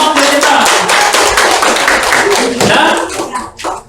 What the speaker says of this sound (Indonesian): tepuk tangan untuk kelompok Jupiter